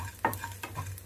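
A spoon scrapes through coriander seeds roasting in a pan in a few quick strokes, close by, with a light dry crackle between them.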